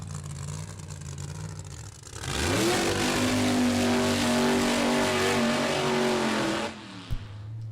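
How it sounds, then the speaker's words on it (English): Two alcohol-burning Hemi funny cars launch down the Mo-Kan Dragway strip, a low idle bursting into a massive sustained roar for several seconds before cutting off sharply with a brief pop. "Pair of alcohol Hemis coming at you."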